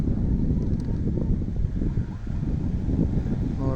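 Strong wind roars steadily and loudly against the microphone, a low rumbling buffet with no clear breaks.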